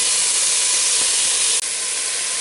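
Sausage browning in a hot pan for Zuppa Toscana soup, a loud, steady hiss and sizzle close to the pan, continuous throughout with one brief dip, and no talking.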